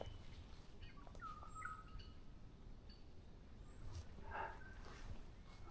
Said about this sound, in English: There, that's the one of the birds there.